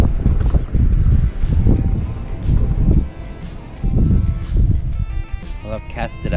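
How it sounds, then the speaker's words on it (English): Strong gusty wind buffeting the microphone while fishing for black bream, loud low rumbling roar in surges, with a person talking over it. "Mate, this wind is horrendous."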